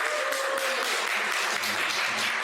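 Dense clapping from a crowd fills a church, continuous and evenly loud throughout.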